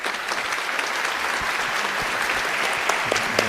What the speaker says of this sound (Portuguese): pedir até palmas para ele, para o José Alves de Freitas Neto.